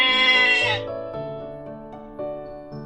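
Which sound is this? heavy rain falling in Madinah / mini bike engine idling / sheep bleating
sheep bleating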